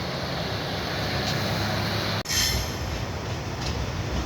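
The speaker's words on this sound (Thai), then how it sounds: "เสียง หัวจักรเร่งเครื่องแล้ว ก็ขบวนนี้ได้หัวจักรรุ่นอัลสตอมทำขบวนนะครับผม" An Alstom diesel locomotive pulls the Isan Watthana express out of Krung Thep Aphiwat station, a steady loud mechanical rumble with a brief dropout and a hiss partway through, and no talking.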